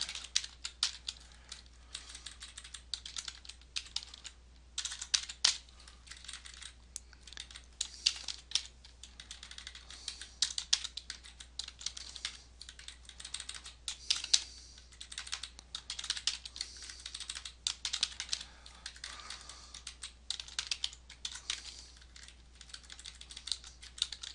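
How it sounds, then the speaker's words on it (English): Quick typing on a computer keyboard, a near, continuous stream of light key clicks in uneven bursts with brief pauses, no one speaking. "Type that in real quick."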